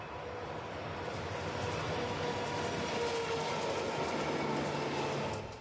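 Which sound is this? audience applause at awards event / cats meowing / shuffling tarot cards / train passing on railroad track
train passing on railroad track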